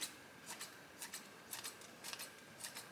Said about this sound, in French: Je vais venir couper un petit peu de persil dessus.